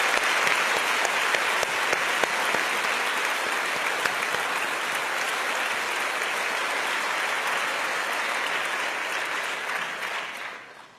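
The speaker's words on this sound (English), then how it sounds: "Please join me in giving them a big round of applause." Sustained applause from a graduation ceremony audience, a dense, steady wash of many hands clapping that holds evenly for about ten seconds before tapering off at the end.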